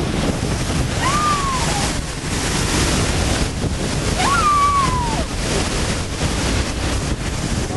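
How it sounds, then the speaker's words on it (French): A waterfall rushes in a constant loud roar of water. Two faint high whistling tones rise and fall over the steady noise. "Voilà une belle cascade."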